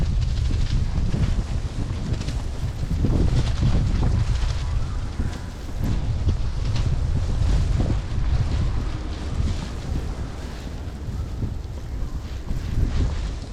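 Strong wind roars without a break during a nor'easter snowstorm in New York. The gusts are loud and close and buffet the microphone, with no speech over them.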